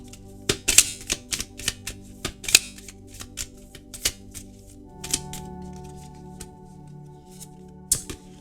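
Oracle cards shuffled by hand before a draw, a quick series of close, crisp card flicks and slaps, then a short quieter pause and one last snap.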